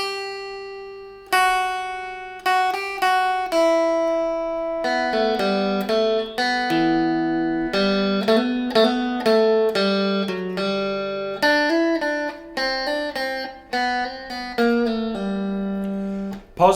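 An electric guitar plays the intro riff of a song, with clean plucked notes and chords moving in a steady rhythmic pattern over about seventeen seconds, loud and close, with no voice.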